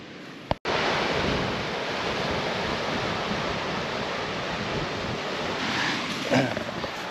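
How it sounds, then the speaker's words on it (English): Steady wash of surf and gusting wind at Red Cliff Beach, a small free campsite beach, loud and continuous, with a brief microphone bump near the start and a faint rise of breaking water toward the end. "So this is the cool little beach."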